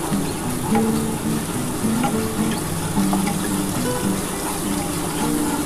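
Spice paste being stir-fried in a pan for a small bhola fish curry, giving a steady loud sizzle with scraping stirs and clinks running through, with no talk over it.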